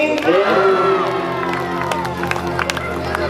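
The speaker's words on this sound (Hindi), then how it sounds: "जोरदार ताली बजाइए एक बार और तेज ताली बजाओ" Crowd at a Hindu religious discourse on the Bhagavat katha cheers and claps loudly together, a dense sustained roar with voices shouting over it.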